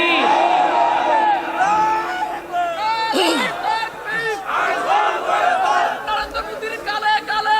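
A large crowd at an Islamic religious gathering roars a chant back in answer to a call of Naraye Takbir, many voices shouting together in loud, rising waves with some scattered cries.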